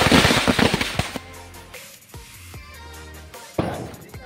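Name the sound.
firecrackers bursting during Ganpati immersion procession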